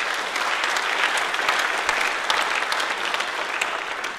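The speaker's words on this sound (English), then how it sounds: "Can we have another round of applause for these award winners?" Sustained audience applause for award winners at a parks lecture event, steady dense clapping from a seated crowd throughout, no voices over it.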